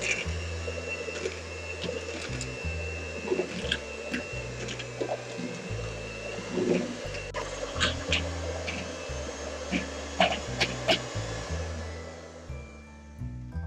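An electric mixer beats peanut butter biscuit dough on low speed, giving a steady, close motor drone with slight shifts in pitch that runs continuously and eases off toward the end.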